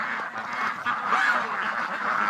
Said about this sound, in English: Poor ducks are overheating in there.